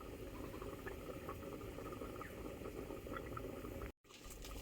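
A pot of food, eggs and potatoes, boils steadily on a home stove, giving a continuous low bubbling hiss at close range with a brief dropout near the end and no talking.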